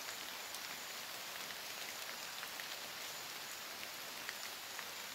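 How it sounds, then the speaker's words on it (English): Steady rain falls in a tropical forest in South West Papua, a constant even hiss on leaves and surfaces with no voices, moderately loud throughout. "So now it's still raining."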